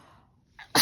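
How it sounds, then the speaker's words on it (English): A single close, sharp human sneeze bursts out loudly at the end, preceded by a quick intake of breath after a near-silent pause. "Oh, I gotta sneeze."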